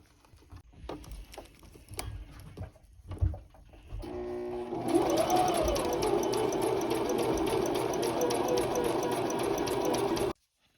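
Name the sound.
sewing machine stitching a hair weft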